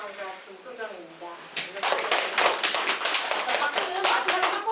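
Brief scattered clapping from a small group at an academy seminar for incoming middle-school students, a few seconds of quick overlapping claps following a short stretch of speech.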